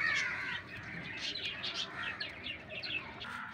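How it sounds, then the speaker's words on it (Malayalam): Pet finches in a cage give a run of quick, high chirps and tweets close by, chattering over a faint background with no talk. "അപ്പോൾ ഇതാണ് നമ്മളെ ഫിഞ്ചസ്."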